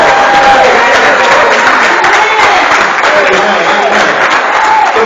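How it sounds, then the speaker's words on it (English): A church congregation at a Missionary Baptist service applauds the music department, a dense, steady wash of clapping with some cheering mixed in, loud and close throughout. "Could y'all give y'all music department a round of applause?"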